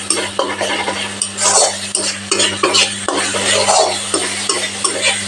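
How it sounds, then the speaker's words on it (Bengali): Chopped coriander leaves frying with spice paste in a pan over low heat for a katla fish curry: steady scraping and stirring with frequent spatula knocks and light metallic clinks over a soft sizzle and a low hum. "একটুখানি 2 টেবিল স্পুন মতো ধনেপাতা কুচিয়ে একটু ভেজে নিচ্ছি মশলার সাথে"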